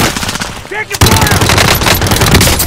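Machine gun fire rattles in Warzone as loud, dense rapid bursts. A brief voice cuts in just before a sustained, close barrage of overlapping shots continues to the end.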